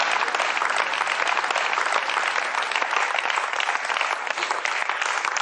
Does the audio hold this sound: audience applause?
yes